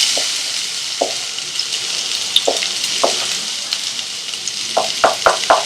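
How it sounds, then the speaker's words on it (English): Finely chopped green chilies and onion fry in a pan for a bacon jalfrezi, giving a steady close sizzle broken by occasional stirring clicks and scrapes, with a quick run of sharper taps near the end. "To this I'm going to add 2 green chilies finely chopped and 1 onion finely chopped."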